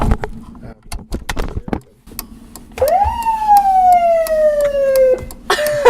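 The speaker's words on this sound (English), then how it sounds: "Are you allowed to turn on the sirens?" After some clicks and knocks, a police siren whoops up and then wails down in one long, loud sweep, ending in a short burst.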